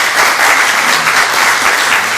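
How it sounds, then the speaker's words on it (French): A concert audience at a community solidarity closing event gives the musicians loud, dense, continuous applause at close range. "On peut leur applaudir"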